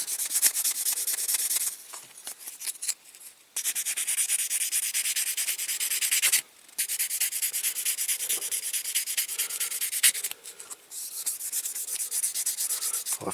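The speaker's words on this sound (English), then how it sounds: "we're going to do that with the old nail buffer" Nail buffer polishing the windscreen of a Corgi Toys Hillman Imp model car, a close, steady scratchy rubbing in long strokes broken by a few brief pauses, with no voices.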